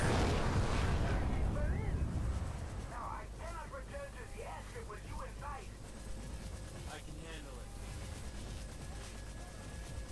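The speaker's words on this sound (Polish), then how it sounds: "będziemy obserwować teraz fajną eksplozję" A loud, rumbling explosion of a satellite antenna in Far Cry 3 at the start, fading into lower roar with scattered electronic chirps and effects afterward.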